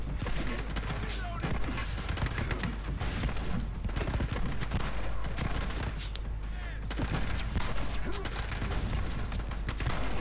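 Gunfire from a weapon in the video game The Club, set in a prison cells level, rapid dense shots rattling on continuously for about ten seconds, loud and close, with a voice partly mixed in.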